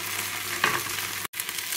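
Garlic and onions frying together with chicken legs in a pan, a steady close sizzle with a brief stirring scrape partway through and a moment of near silence before the frying resumes.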